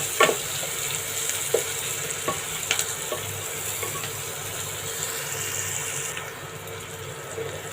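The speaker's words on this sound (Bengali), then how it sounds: "আমরা পেঁয়াজটা ভালো করে ভেজে নেব।" Onions frying in a pan for a kolmi shak dish, a steady broadband sizzle with a few sharp pops and stirring clicks, close and continuous throughout with no talking.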